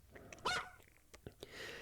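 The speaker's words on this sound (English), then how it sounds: "Around and around the barking went." A dog gives one short, sharp bark, followed by a few fainter scattered sounds, all heard quietly in the background.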